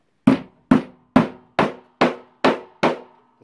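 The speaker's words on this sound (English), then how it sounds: "one is with a hammer, and I guess hammering it in with some softwood like this piece of pine" Seven sharp hammer strikes fall at an even pace as an insert nut is driven into a piece of pine softwood, each blow a close, distinct knock followed by a short ringing decay.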